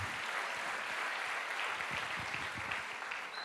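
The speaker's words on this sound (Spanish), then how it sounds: "Dele un fuerte aplauso al Señor, dele un fuerte aplauso." A church congregation applauds loudly and steadily during worship, a dense, continuous wash of clapping that fills the room with no voices standing out.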